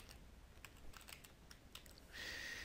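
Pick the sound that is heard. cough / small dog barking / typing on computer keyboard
typing on computer keyboard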